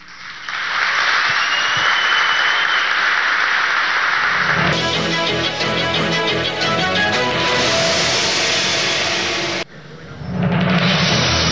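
Audience applause at a 2012 MUD primaries political debate: sustained clapping from a crowd that carries on for several seconds, briefly drops away, then swells again near the end.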